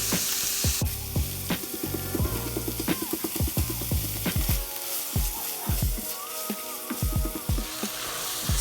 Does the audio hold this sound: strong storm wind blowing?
no